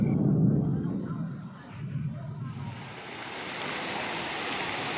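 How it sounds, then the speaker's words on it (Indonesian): An overflowing river rushes during a flash flood in Garut: a continuous loud roar of churning water that shifts from a deep rumble to a broader hiss, heard up close. "tiba-tiba saja air sungai membludak ya, atau banjir bandang"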